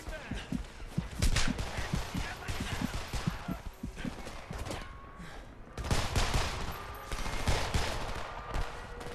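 Gunfire in the shooter game Homefront, rapid bursts of automatic weapons and scattered shots crackling throughout, loud and close, with a heavier barrage near the end and voices speaking over the battle.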